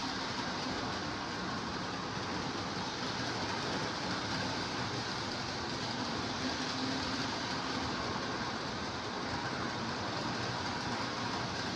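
A Lionel 1987 Conrail Limited O gauge toy train runs on its track, giving a steady, continuous rolling rumble and whir at constant level throughout, with no talking.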